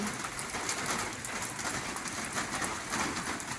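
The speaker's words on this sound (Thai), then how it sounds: "ฝนตกอยู่" Steady rain falls as a dense, even hiss on surfaces, moderately quiet and continuous, with possible faint bird cooing in the background.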